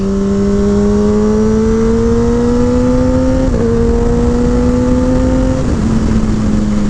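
Kawasaki Ninja ZX-10R sport bike in low power mode pulling hard along a canyon road, its loud engine whine rising steadily in pitch through two gear changes, close and continuous with no talk.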